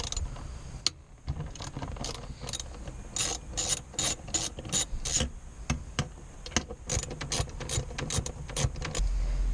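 Ratcheting wrench clicks and metallic rubbing as bolts are loosened from a Nissan Altima airbag control unit, in quick irregular bursts of close mechanical clatter with no talking.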